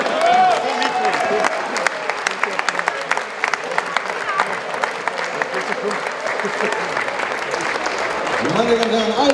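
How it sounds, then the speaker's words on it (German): Stage audience at a football nostalgia gala applauds a man on stage with steady, sustained clapping from a large crowd, fairly even throughout, with a voice speaking near the end. "Meine Damen und Herren, einen kräftigen Applaus"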